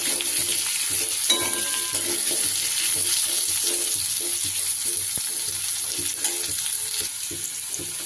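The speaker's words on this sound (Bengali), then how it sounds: "এই মাছ ভাজার তেলটার মধ্যেই আমি" Potatoes frying in oil left over from frying fish, a steady close sizzle and crackle with occasional stirring scrapes throughout.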